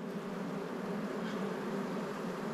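Honeybees buzzing in a hive during a beekeeper's spring inspection in Australia: a dense, steady, close drone of many bees that holds unchanged throughout, with no talking.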